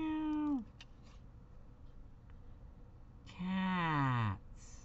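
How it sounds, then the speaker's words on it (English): Two clear cat meows, one short and one longer and drawn out, separated by a quiet pause with faint background hiss. "Who says meow, meow?"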